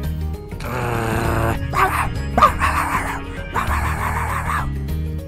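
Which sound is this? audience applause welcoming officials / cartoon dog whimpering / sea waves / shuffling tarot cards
cartoon dog whimpering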